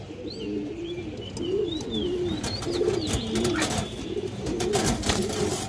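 Female pigeons of mixed breeds, including silver khaki hens, coo repeatedly in a low rolling rhythm close by, with sharp flapping and rustling bursts and faint high chirps over a steady background hum.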